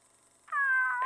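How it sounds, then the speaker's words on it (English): A cat meows once, a clear, close, drawn-out cry rising out of near silence, followed by the start of another sound at the end, set within a horror fiction audio drama. "Did you bring a cat to a summoning?"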